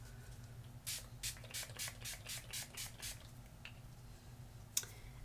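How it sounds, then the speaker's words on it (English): A Mario Badescu Aloe Cucumber Green Tea facial mist spray bottle pumped in a quick run of about seven short hissing bursts, close up, then one more spritz after a pause. "So I just finish off with one of my faves, Mara Badescu facial spray"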